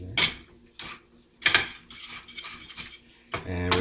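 Spoon clinks and scrapes against a pot while a pepperoni mixture is stirred, in several short bursts of clattering with brief pauses, close and fairly loud.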